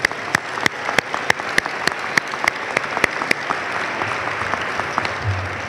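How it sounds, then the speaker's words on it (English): Applause from an audience at a military airlift wing change of command ceremony, with scattered sharp claps standing out over a steady wash of clapping that holds through the clip. "Let's have a round of applause for Sherry."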